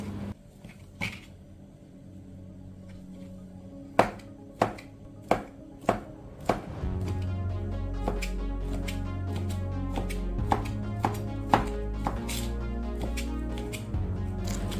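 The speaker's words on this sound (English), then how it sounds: "I will be using sausages, so I'm going to cut them into tiny pieces." Knife chopping sausages into tiny pieces on a board: a few sharp, separate cuts at first, then a faster series of crisp chops over a steady background hum.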